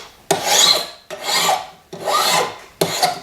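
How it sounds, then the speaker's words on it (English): A hand file rasps along the blade edge of a small Chinese dadao sword pendant in four slow, even strokes, each a close, gritty scraping sound followed by a short pause. "So we're just slowly filing off the side that has the blade on it,"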